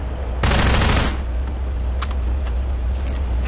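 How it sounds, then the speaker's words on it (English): A loud, quick burst of SMG fire in Half-Life 2, about half a second long, followed by a few faint scattered clicks and pops over a steady low background rumble. "I'm allowed to spam my SMG here"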